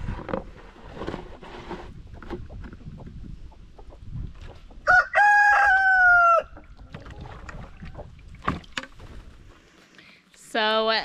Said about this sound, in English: So the chickens are trapped up,